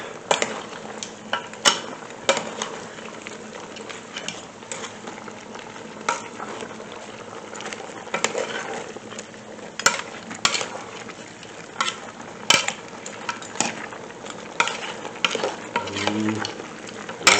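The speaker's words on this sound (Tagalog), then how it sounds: "Saka natin ngayon halu aluin" Goat kaldereta stirred in a pan, a low simmering sizzle under frequent scraping and clinking of a spoon against metal, irregular strokes, close by.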